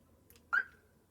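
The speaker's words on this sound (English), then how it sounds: "A single beep, the alarm is off." A caravan alarm key fob gives one short, high electronic beep as the alarm is switched off, faint and alone in a quiet interior.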